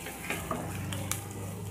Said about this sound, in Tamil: இப்போ நல்லா வந்து ஃப்ரை பண்ணிக்கலாம் லைட் கோல்டன் பிரவுன் வர வரைக்கும் போட்டுக்கோங்க